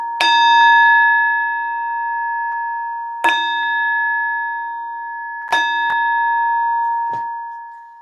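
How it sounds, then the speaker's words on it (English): A spirit bell singing bowl struck three times at slow intervals, each strike ringing out with a bright, sustained metallic tone that slowly decays, loud and close with no talking. "The spirit bell."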